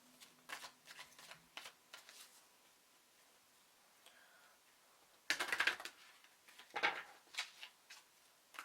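Romance Angel tarot cards being shuffled, quiet riffling bursts and soft flicks near the microphone, with two louder shuffles after a brief lull.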